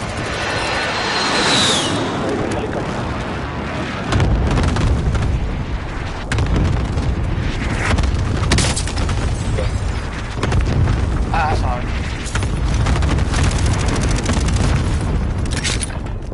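A charge detonates in a video game, a loud boom rising over dense crashing battle noise, with repeated heavy bursts and rumbling blasts continuing for the rest of the stretch under a speaking voice.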